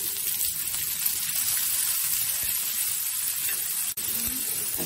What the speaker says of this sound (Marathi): त्यासाठी मी तेल टाकलंय आणि कांदा टाकते भाजायला